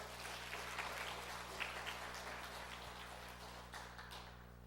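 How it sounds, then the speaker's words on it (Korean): A church congregation claps during a Sunday service, a soft, steady patter of distant applause with a low electrical hum beneath it. "우리 귀한 찬양 받으신 하나님께 다시 한번 영광의 박수를 올려드립시다"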